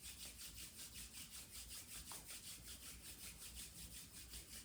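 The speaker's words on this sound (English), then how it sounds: "rub your hands together gently. Build some friction, some chi between your palms." Palms rubbing together gently in a steady back-and-forth rhythm, a soft continuous friction whoosh repeating close by with no talking.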